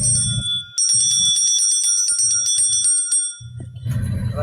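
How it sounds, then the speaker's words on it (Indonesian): Rapid jingling bell played back, a bright sustained ringing chatter with a steady shimmer, cut in and out with short pauses and a low rumbling hum underneath. "bunyi wahyu itu gemerincing lonceng"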